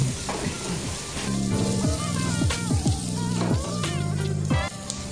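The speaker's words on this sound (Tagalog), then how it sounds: "Dagdag natin yung ating bawang. Saglit lang natin siyang gigisahin kasi mabilis lang maluto ang bawang." Garlic sautéing in a pan for pork giniling gives off a steady, close sizzling hiss under louder tonal background sounds.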